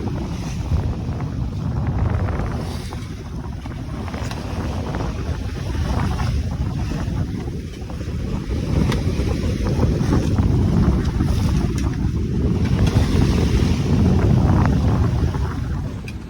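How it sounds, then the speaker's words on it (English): Wind blows steadily across a sailboat at sea off Charleston with confused seas, a loud continuous rushing roar with gusty swells and microphone buffeting over a low water wash throughout. "it looks like the wind's shifting a little bit too"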